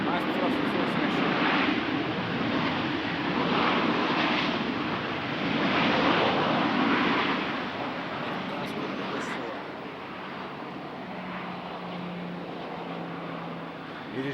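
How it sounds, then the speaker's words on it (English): An airliner takes off at Amsterdam Schiphol Airport on a stormy night, a broad steady engine roar with wind rumble filling the scene, heard at a distance while people talk over it. "Oh, nice takeoff, nice takeoff for the airlines."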